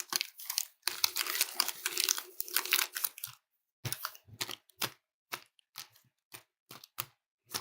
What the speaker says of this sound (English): So a quick shuffle.